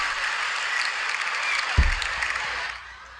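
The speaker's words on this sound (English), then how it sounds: "I want to hear each other? some big applause" A podcast audience applauds in a brief burst of clapping with a thump near the middle, fading out toward the end.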